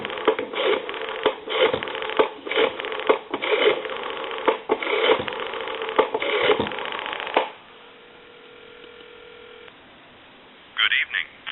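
A donut circle telephone under repair picks up the line: handling and rubbing noises come first, then a steady, clean dial tone hums alone for about two seconds before dropping to near silence and a short burst of noise.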